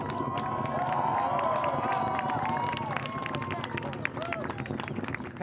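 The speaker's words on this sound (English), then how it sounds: "Crowd watching the launch at Wallops there, cheering its liftoff" A crowd cheering the liftoff of an Antares rocket launch at Wallops, a dense continuous roar of voices and whistles at steady level, with a voice talking over it.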